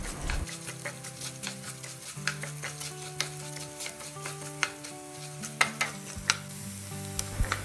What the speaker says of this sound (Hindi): अब इसी कढ़ाई में दो चम्मच घी और डाल देंगे और धनिया डालकर हल्का सा ब्राउन होने तक रोस्ट कर लेंगे